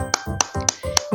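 Four sharp, evenly spaced claps or snap-like hits, close and crisp with short gaps between, as a sound effect in a children's birthday counting song.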